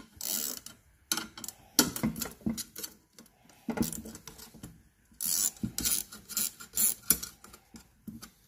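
Bursts of metallic ratcheting and rasping as nuts are tightened with a wrench on an air filter bracket of a Land Rover 200Tdi engine, in short repeated spurts separated by quiet pauses.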